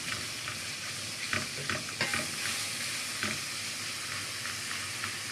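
Koshari ingredients frying and being stirred in a pan after coriander, cumin and salt go in, giving a steady close sizzle with scattered scraping taps of the spoon and no voices.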